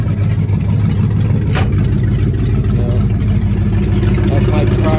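A 1988 Mustang GT engine runs steadily at idle, a loud, close, continuous rumble with one brief sharp noise near the start.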